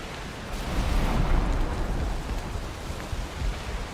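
Stormy night weather in the Valheim video game, a steady broadband wash of heavy rain with deep low rumbling underneath, loud and continuous throughout with no voices.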